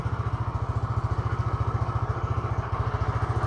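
A tuned motorcycle engine idles close by, with even, rapid low-pitched pulsing thumps at a steady rhythm and no clear rev.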